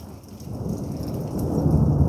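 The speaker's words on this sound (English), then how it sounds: "Ooh, thunder." Rolling thunder swells during a thunderstorm, building gradually over steady rainfall into a louder, deep rumble toward the end.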